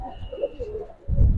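A giribaz racing pigeon coos in a loft, a short low throaty burble, close and moderately loud, followed by a rumbling thump of handling noise.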